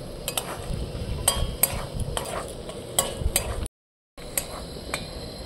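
A spoon scrapes and stirs chicken masala with Kashmiri chili powder in a pan cooked outdoors, the low sizzle of frying under sharp metallic clinks against the pan, then a brief gap of silence before the stirring resumes.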